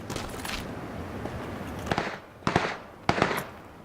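Gunfire in an online shooter game comes as a few sharp cracks with pauses between them, one single shot and then a couple of closer bursts over a low background.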